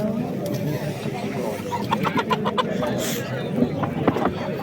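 At the Kumtepa poultry market in Fergana, roosters and chickens cluck and squawk in quick repeated bursts, fairly near, under a steady background of crowd chatter and voices.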